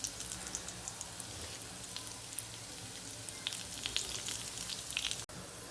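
Lentils, peppercorns, chilies, coriander seeds, tamarind and carom seeds frying in a pan for curry leaf powder, a steady dense crackling sizzle with occasional sharper pops, no talking.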